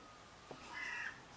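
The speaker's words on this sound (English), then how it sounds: "There's a bird outside crowing." A crow caws outdoors, a single drawn-out harsh call in the second half, distant and fairly faint, preceded by a brief soft tap.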